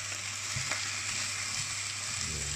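Potatoes frying in a pan give a constant close sizzle, with a few soft stirring scrapes and knocks as they are mixed, and no talking.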